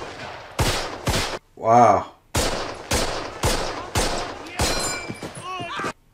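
Gunfire and artillery from a Band of Brothers war scene, with a run of loud, evenly spaced blasts and shots close up. A voice gives a short exclamation between them.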